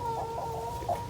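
A hen clucks nearby in a backyard flock that includes Brahmas, a few soft repeated clucks with one louder note near the end.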